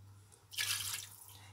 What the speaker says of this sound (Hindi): 1 कप मैंने पानी का डाल दिया।